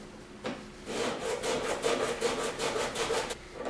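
A mandolin slicer cuts a vegetable into spaghetti strands with a rhythmic series of scraping strokes, close and fairly loud, with no talking.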